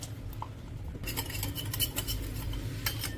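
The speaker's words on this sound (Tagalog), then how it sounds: "Gawa lang tayo ng sauce. Mix lang natin ng toyo, oyster sauce, brown sugar," A sauce of soy sauce, oyster sauce, brown sugar and sesame oil is stirred, with a spoon clinking and scraping against a bowl in quick, irregular taps, close and moderately loud.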